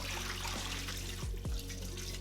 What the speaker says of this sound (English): Now I'm gonna wash the shrimp in cold water to remove any gunk from the surface of the shrimp